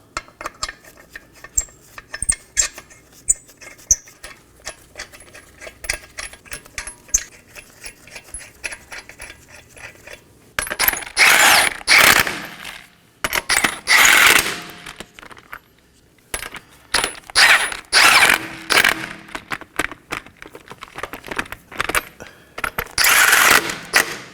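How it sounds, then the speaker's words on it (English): Five 21mm lug nuts go onto a Nissan Maxima front wheel, starting with faint metallic clicks and then turning into repeated loud bursts of ratcheting and spinning in uneven runs. "I'm going to install my 5 21mm lug nuts."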